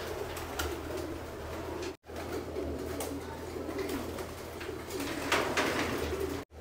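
Soft, repeated cooing of young pigeons close by in a loft, over a steady low background hum, with brief gaps in the sound.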